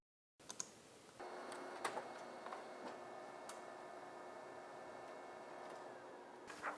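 A printer runs a job on FOREVER Laser Dark transfer paper, giving a steady mechanical whir with regular ticking clicks and a few sharper clunks of paper feed, moderately quiet and without voices.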